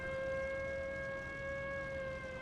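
An air raid siren wails in a WWII flight combat game, a steady sustained tone held loud throughout with no voices.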